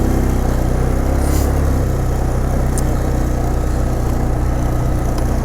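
A 2006 Polaris Sportsman 500 EFI ATV with fuel injection drives in high range, two-wheel drive, its engine a steady, close, unbroken drone that holds an even level throughout with no voices.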